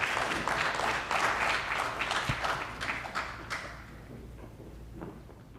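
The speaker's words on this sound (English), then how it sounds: "Let's give a round of applause to Randy Flood." Audience applause for a speaker at a talk, a dense spread of clapping from a crowd that holds steady and then gradually fades.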